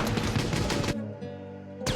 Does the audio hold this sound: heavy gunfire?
yes